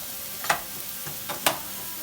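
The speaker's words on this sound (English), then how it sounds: "We're going to saute this onion down a little bit." Chopped onion sautés in a pan with a soft steady sizzle, broken by two sharp scraping stirs of a utensil, quiet and close with no talking.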